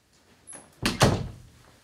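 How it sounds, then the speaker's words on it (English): A door is shut with a solid thunk, a soft preceding scrape followed by two close, loud impacts that decay quickly in a quiet room. "Just don these correctly and shut this door."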